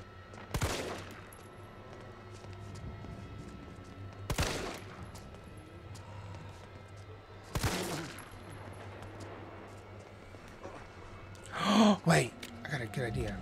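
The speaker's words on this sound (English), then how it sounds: "Okay, I might have to start shooting." Gunfire from the Resident Evil 3 video game: three sharp, loud bursts spaced a few seconds apart over a steady low hum, followed by a brief distorted noise near the end.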